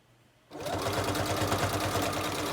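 A sewing machine runs steadily, stitching through paper strips in a crafting session, with a fast even mechanical chatter that starts abruptly and continues close and loud with no talk.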